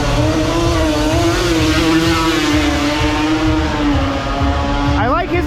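A loud turbocharged Honda Civic's exhaust roars steadily with rumble at a drag strip, pitch sliding upward as it revs near the end, with crowd or track noise underneath.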